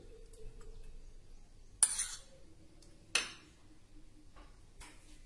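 A spoon mixes cooled tempering into yogurt in a bowl for a light fasting dish. The scraping is very quiet, with two sharp clinks against the bowl spaced about a second apart.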